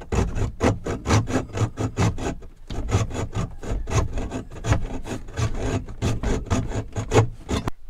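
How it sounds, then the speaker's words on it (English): Rapid back-and-forth rasping strokes of a hacksaw cutting through a stuck bolt, steady rhythmic cutting close by with a brief pause partway through. "so we had to hacksaw it off"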